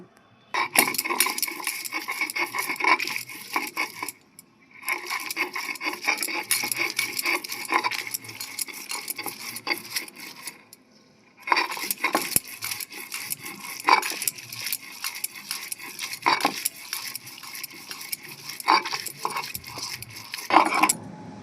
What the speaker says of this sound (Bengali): মটরশুঁটির খোসাগুলো তো সেদ্ধ করে নিয়েছি এখন শিলনোড়ায় বেটে নেব